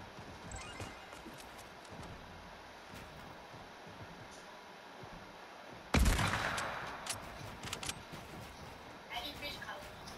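Gunfire in the Fortnite video game, a sudden loud burst of shots partway through followed by scattered further shots, with quieter game noise before it and people talking over the action.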